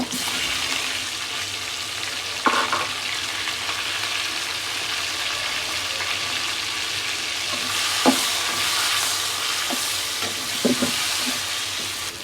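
Onion and chili frying in a pan for a shapla and hilsa fish dish, a steady broadband sizzle running throughout with a few sharp scrapes and clinks of stirring.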